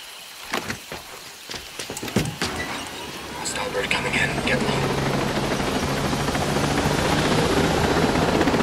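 A helicopter in the video game Ghost Recon Breakpoint rises from clicks and taps into a loud, steady rotor roar that builds and holds to the end. Voices speak over it.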